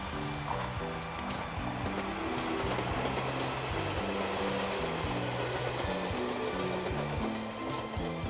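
The Yufuin no Mori train runs steadily on rails between Hakata and Beppu, with a continuous rumble and rhythmic rolling tones heard from inside or close by.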